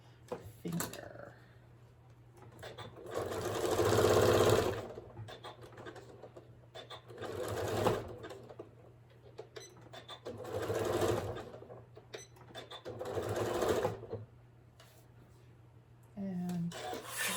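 Zigzag stitching on a sewing machine sewing a cover for a solar power bank, running in several separate bursts of a few seconds each with quiet pauses between them. A steady low hum continues underneath throughout.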